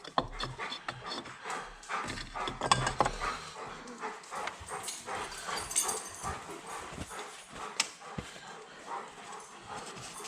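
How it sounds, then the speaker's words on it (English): Dogs chase cats nearby during an early morning oil change, giving scattered barks, whimpers and panting mixed with scuffling, clattering noises across a stretch of irregular activity. "Dogs are chasing the cats."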